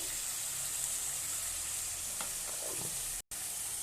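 Turmeric, coriander-cumin and chili powders fry with ginger-garlic paste, salt and a splash of water in a pan. A faint, steady sizzle is broken by a few soft stirring scrapes and a brief dropout, with no talking.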